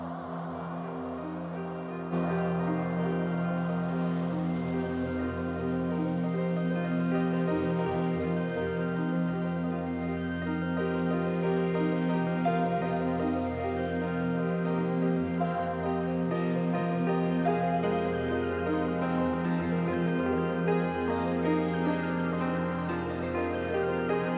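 Slow, sustained ambient music with layered tones and bell-like chimes, steady and fairly loud after a quiet opening, with no voices.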